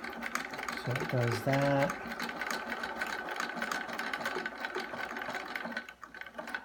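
A Husqvarna computerized sewing machine stitches and ties off its thread, whirring steadily up close with a few short electronic beeps early on, while a person talks over it.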